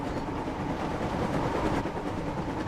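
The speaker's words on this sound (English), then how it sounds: "The train was soon running nicely" A toy Thomas and Friends train, James, runs along its rails with a steady, continuous rumbling clatter at moderate volume, unbroken throughout and with no voices.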